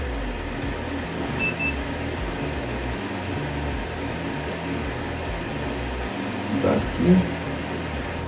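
A Canon TA-20 large-format printer, loaded with dye ink, runs its alignment pass on print material in a quick-print shop. It gives a steady mechanical whir and hum with a brief beep near the start, while a person talks over it.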